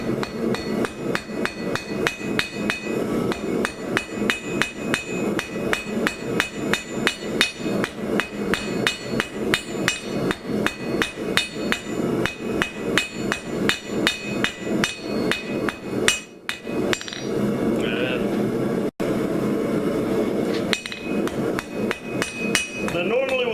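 Rapid, steady hammer blows ring out on hot scrap steel being forged into a BBQ fork, striking in quick runs with a short break near the end before the hammering resumes, loud and close.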